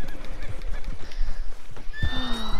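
A horse in the Red Dead Online video game whinnies loudly near the end, a shrill descending neigh, after busy game noise with hoof clatter, thuds and a voice talking in the background.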